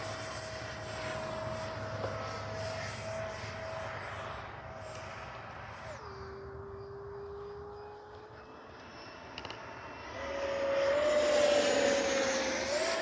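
Freewing 70mm F9F-5 Panther RC jet passing at about half throttle, a steady ducted-fan whine that holds, drops in pitch as it goes by, then swells louder again near the end.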